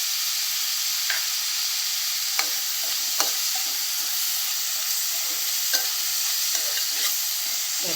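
Sliced onions frying with salt in a pan for Andhra-style chicken fry, a steady close hiss of sizzling oil with occasional soft stirring scrapes and clicks.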